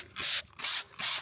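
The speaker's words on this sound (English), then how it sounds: "just spray this on it just to get the worst of it off" Three quick hissing sprays of cleaner from a trigger bottle onto an aluminum canoe, evenly spaced with brief pauses between them, close and fairly loud.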